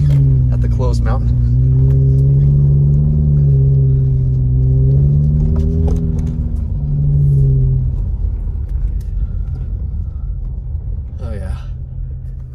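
A car engine rumbles steadily as the vehicle pulls into a mountain parking lot at a snowy, closed ski area in Big Bear, California, with a low drone that eases and fades after about eight seconds.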